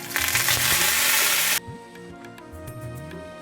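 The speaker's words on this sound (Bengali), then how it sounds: "ফোড়নে দিচ্ছি সাদা কালো সর্ষে একটু জিরে আর একটা শুকনো লঙ্কা দিচ্ছি কিছুটা কারি পাতা" Mustard seeds in black and white, cumin, a dried chili and curry leaves hit hot mustard oil in a wok with a loud, dense sizzle. It cuts off abruptly and gives way to quieter crackling and faint clatter.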